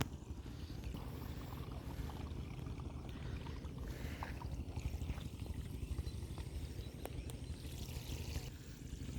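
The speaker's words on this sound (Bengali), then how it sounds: "এই যে এখানে পানি আসতেছে তার শব্দ আসতেছে" Water rushes and gurgles steadily through a farm irrigation pipe, a low continuous churning with no voices.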